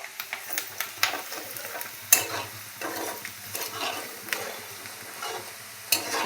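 Onions fry in a pan with a soft, continuous sizzle, broken by repeated scraping strokes of a spatula in an irregular rhythm, close and moderately quiet.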